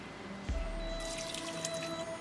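Beef broth from a can poured into an Instant Pot for beef stew, a soft liquid splash and trickle over a low steady hum, close and fairly quiet.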